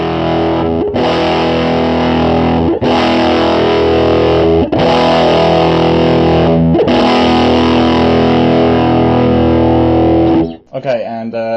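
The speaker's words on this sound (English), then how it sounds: "roll it up while I kind of repeatedly strum a chord" An electric guitar chord strummed repeatedly through a Fuzz Face pedal, thick and heavily distorted, with four or five loud sustained strums that end in a brief scrape.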